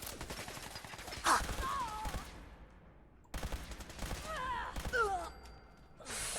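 Bursts of automatic gunfire in the Fallout 4 video game, two rapid clusters of shots separated by a short pause, each followed by pained grunts and gasps.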